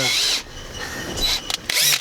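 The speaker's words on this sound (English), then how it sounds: "the drill." A power drill whirs in short high-pitched bursts inside a Toyota Tacoma during a subwoofer install, starting loud, pausing, then spinning up again in a couple of brief runs nearby.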